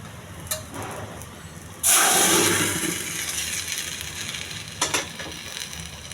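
Hot tempering poured into cooked, mashed dal with bachala kura (Malabar spinach) bursts into a loud, sudden sizzle that slowly fades, followed by a brief second crackling flare.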